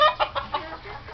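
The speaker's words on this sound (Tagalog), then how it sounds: "meron akong isang inahin dito." A hen clucks in a few short bursts, close and fairly quiet, with faint farmyard background and no talk.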